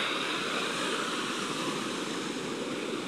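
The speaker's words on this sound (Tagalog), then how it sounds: "Lumalaki na ang alon." Sea waves wash steadily onto a beach, a continuous broadband surf rush with no distinct breaks, moderately loud and with no voices.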